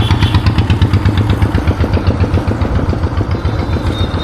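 A motorcycle engine idling close by, with a loud, steady, rapid thumping pulse that runs throughout and no voices.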